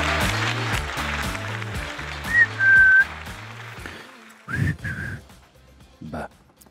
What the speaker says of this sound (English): how do the whistles sound?